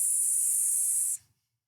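A voice makes a long, steady hissing "sss" for the letter S, imitating a hiss. It is close and bright, lasts about a second, then cuts off into silence.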